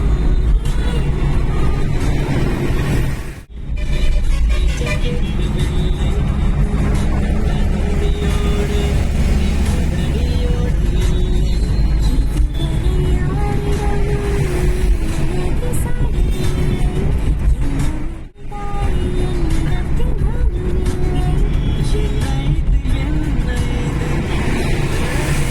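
Continuous, loud road and engine drone heard from inside a vehicle as a Toyota Innova and a jeep drive one behind the other and overtake on a road, steady throughout with two short dips.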